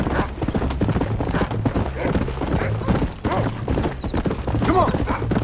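Horse hooves clip-clop in a steady trotting rhythm in the Red Dead Redemption game, loud and close, with voices talking over the hoofbeats.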